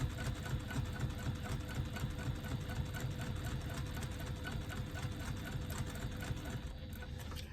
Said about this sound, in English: One-eighth of an inch seam allowance for the second time.